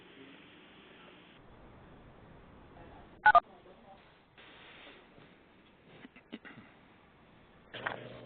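Conference phone lines are unmuted and short line tones and clicks break in, among them one sharp tone burst and a few scattered blips, over low background hiss and faint voices.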